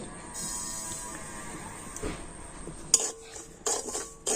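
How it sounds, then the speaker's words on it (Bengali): Dry semolina poured into an empty wok and stirred, with metallic scraping and clinking of a utensil against the pan, close and steady with a few sharper knocks and no talking. "এই খালি কড়াতে আমি সুজিটা দিয়ে দিচ্ছি"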